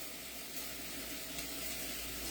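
Onions, garlic and carrots sauteing on a new stovetop give a steady, soft sizzling hiss that stays even and fairly faint throughout, with no talking.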